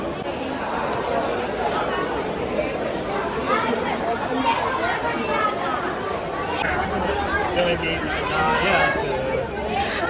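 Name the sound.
crowd chatter at a railway station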